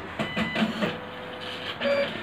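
An Epson PLQ-20 passbook printer powering up, giving a run of mechanical whirring and clattering pulses with a few short electronic tones, fairly close and steady for about two seconds.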